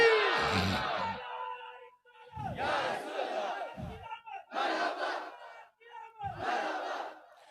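A large crowd at a religious gathering roars back in repeated bursts after a Takbir slogan call, several loud chanted waves separated by short pauses.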